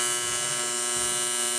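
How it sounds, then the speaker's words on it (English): Steady electrical buzz of arc welding on a 1500hp no-prep Mazda RX7 build, a continuous close hum with no pauses and no talking. "Almost done with this weld."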